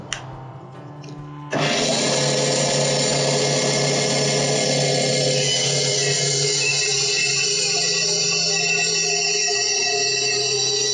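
A Charnwood B250 10-inch bandsaw starts up after a brief quiet moment, then runs loud and steady while cutting a scrap piece of oak, with a continuous whine throughout.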